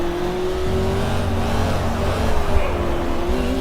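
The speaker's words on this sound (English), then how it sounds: "Wants a big blip on the engine." Race car engine in the GT Legends racing video game holds a steady high drone with a rising rev, loud and continuous with no talk over it.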